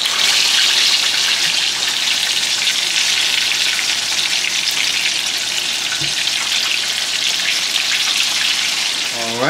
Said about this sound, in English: We're just about to throw it in for maybe another minute or two to get its second fry on, extra crispy.